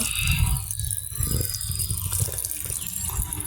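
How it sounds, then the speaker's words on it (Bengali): Tap water runs steadily from an opened faucet into a sink at home, a continuous close splashing rush with slight variations in flow and no speech. "জলটা খুলে দিলাম"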